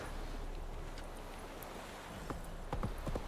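A horse's hooves clop in The Witcher 3, with a few sharp strikes near the end over a faint, windy background.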